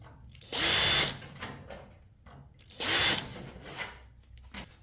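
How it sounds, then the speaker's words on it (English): A power drill fitted with a 5/32 bit countersinks rivet holes in a fuel tank cover for an aircraft build, giving two loud, sustained whines of about half a second each, separated by quieter handling noise. "been using the 5/32 drill bit to countersink the other two holes slightly for the flush mount rivets"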